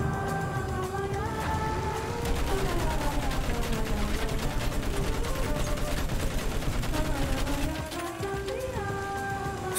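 Video game gunfire from Battlefield 1 rattles in rapid, continuous bursts over a dense background of music and battle noise, with a voice talking briefly over it.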